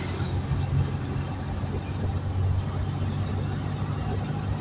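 Car interior on a road through Bukit Kemuning, North Lampung: a steady, fairly quiet engine hum and road rumble, low and continuous, with no voices.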